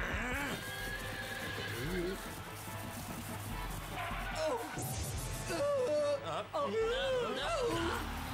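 A horse whinnies and snorts repeatedly over lively carnival music, with excited voices talking and shouting at the same time.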